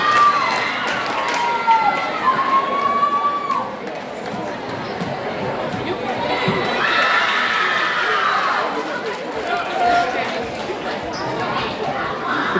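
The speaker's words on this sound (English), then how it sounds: "London cheerleaders came to scream today." Cheerleaders scream and cheer at an eighth-grade school basketball game against London, a loud, continuous crowd roar with high shrieks and chanting filling the gym, rising and falling in waves with scattered voices throughout.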